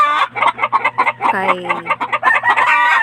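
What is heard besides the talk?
caged chickens clucking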